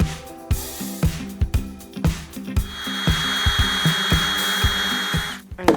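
A power drill driving screws into wood while building a lazy susan, with repeated sharp knocks and scraping under a steady motor whine that runs continuously through the second half, close and fairly loud.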